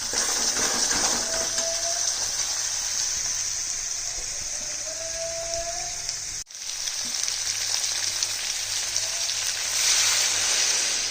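Hot water pours into spiced gravy in a hot wok, producing a loud, steady rushing sizzle that briefly cuts out near the end before resuming at full strength.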